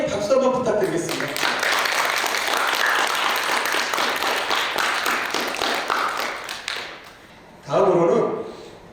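An audience of student reporters and guests at a 2023 Yongin youth reporter completion ceremony applauds in a sustained burst of clapping that fades out, followed by a speaking voice.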